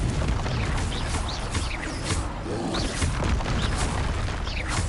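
Confringo explosive spells in Hogwarts Legacy on PS5, heavy booming blasts that land one on another in a dense, loud barrage with rumbling low crashes throughout.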